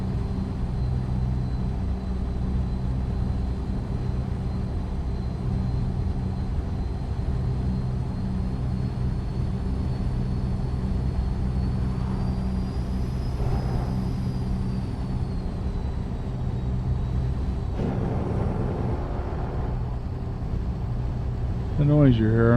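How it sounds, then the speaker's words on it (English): Steady low rumble of a truck engine in American Truck Simulator, with a thin whining tone above and a brief rattling vibration near the end, heard under someone talking. "The noise you're hearing, I'm hitting a little vibration in the center there."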